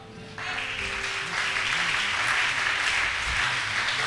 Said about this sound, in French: Est-ce qu'on peut l'acclamer encore beaucoup plus fort que ça?